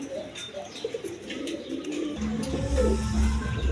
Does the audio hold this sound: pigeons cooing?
yes